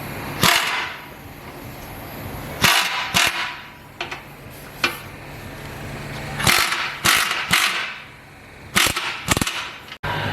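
Sharp metallic clicks and ratchet bursts from tightening the front sway bar bolts on a 10th-gen Honda Civic Si with an Eibach bar, coming in irregular clusters of loud, close snaps with gaps between them.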